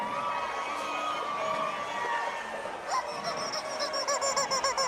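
A Mardi Gras rubber chicken squawking at a Bacchus parade in New Orleans, a run of honking, goose-like squeals that grows rhythmic and repeated toward the end over a constant murmur of crowd noise.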